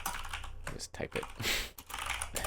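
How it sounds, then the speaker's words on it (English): Quick clacking keystrokes on a computer keyboard while writing script code for Tabletop Simulator, close and fairly loud, in short irregular runs with a voice speaking between them. "Just type it."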